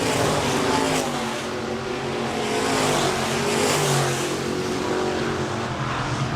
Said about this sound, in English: Everybody trying some different lines now around Park Jefferson Speedway, finding out what suits their B-Mod the best.